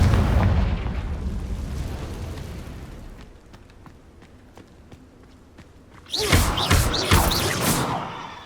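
Confringo blasting spell explosions in Hogwarts Legacy: a loud, rumbling blast opens, fades into quieter game ambience with faint clicks, then a second sharp, bright burst erupts near the end and rings on.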